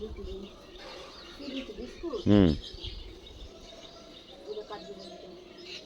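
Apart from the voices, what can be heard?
myna birds squabbling and calling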